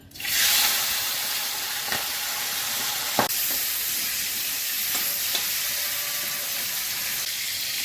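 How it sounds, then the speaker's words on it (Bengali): Shrimp fry in hot oil in a pan, giving a loud, steady sizzle that runs through the whole stretch, with a few faint clinks from stirring and no voices. "প্রথমে চিংড়ি মাছগুলো আমি ভেজে নিচ্ছি।"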